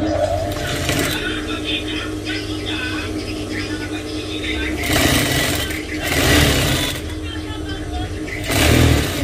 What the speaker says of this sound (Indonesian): Bagian rok kita akan jahit bagian sisinya.